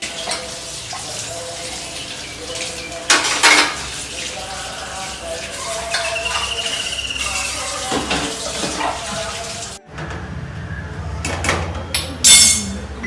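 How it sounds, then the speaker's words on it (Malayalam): Pots and dishes being washed under a running tap in a home kitchen during a morning routine, with steady water flow, occasional clinks and knocks of dishes, and a brief pause before the splashing resumes. "ഞാൻ ആ പാത്രങ്ങളൊക്കെ പെട്ടെന്ന് തന്നെ ഒന്ന് കഴുകിയെടുത്ത്"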